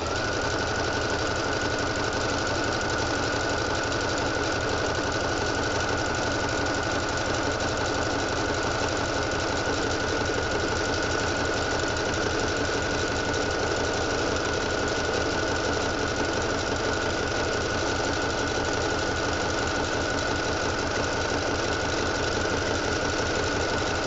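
Sewing machine stitching fabric, a steady continuous mechanical whirring with a fast, even pulse that runs loud and unbroken throughout, with no talking.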